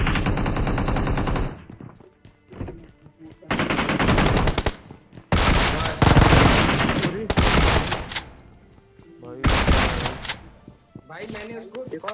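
Rapid automatic gunfire in the mobile battle royale game BGMI, loud bursts of shots separated by short pauses, with a voice briefly heard between bursts.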